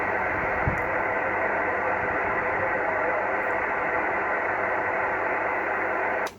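Steady hiss and static from HF radio reception on a Kenwood TS130S transceiver, a constant noisy band with the signal faded out and no clear voice, ending abruptly.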